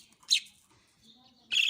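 Pet lovebirds outdoors in early morning letting out two short, sharp chirps separated by a quiet gap, fairly close and brief.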